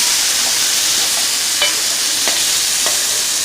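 Pan-fried potatoes tossed with cilantro are stirred in a hot pan, a steady broad sizzle running throughout with a few faint scraping clicks from the utensil, no voices.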